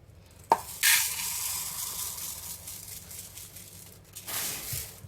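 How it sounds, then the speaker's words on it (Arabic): Rice poured into a frying pan of hot oil for a quick Moroccan dinner with leftover vegetables, giving a sharp burst of hiss and sizzle that settles into a steady low crackle, then swells again near the end. "غادي ندير شويه ديال الزيت، غادي ندير 2 كيسان ديال الرز"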